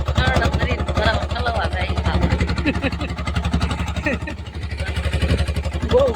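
A tractor engine runs close by with a steady low, pulsing chug, while people talk over it throughout.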